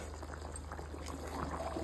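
Goat head curry simmers in a pot, giving a soft, steady bubbling and gentle liquid burble that stays quiet throughout with no voices.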